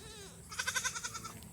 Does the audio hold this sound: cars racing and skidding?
no